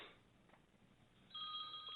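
A telephone at a morning radio show starts ringing partway through with a steady electronic trill over faint room noise, after a quiet stretch with a couple of soft knocks.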